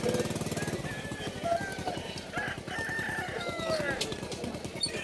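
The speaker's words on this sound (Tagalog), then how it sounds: "Daming manok." Busy pet market in Bulacan with many chickens clucking, a rooster crowing over dense, continuous poultry chatter and background bustle.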